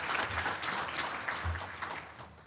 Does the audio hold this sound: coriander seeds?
no